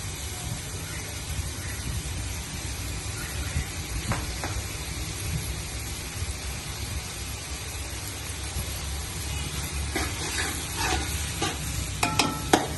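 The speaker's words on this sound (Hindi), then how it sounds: "अब इसमें डालते हैं अदरक लहसुन का पेस्ट।" Ginger garlic paste frying with onions in oil for matar qeema hisses steadily up close while being stirred, with scraping and a cluster of clattering utensil knocks toward the end; no talking.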